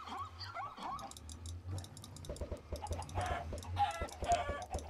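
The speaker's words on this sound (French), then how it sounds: "vous aurez plus le bruit horrible des poulets en arrière-fond" Chickens cluck and squawk in the background of the video game Terres du Futur, a busy, repeated fowl chatter with overlapping calls at moderate loudness and no talk over it.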